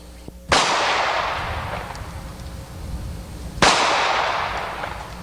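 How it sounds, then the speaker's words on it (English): .38 Special power-load rounds fired at a steel target, two loud sharp outdoor reports about three seconds apart, each trailing off in a long rolling echo. "We'll shoot it with this. This is a 38 special power load here."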